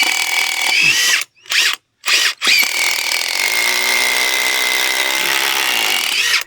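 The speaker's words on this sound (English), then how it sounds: "so I'm just pre-drilling through here. Give them a little pre-drill here," Power drill whining at high speed close up, briefly stopping and restarting twice before a long continuous run pre-drilling into very hard hardwood timber for a garden bed.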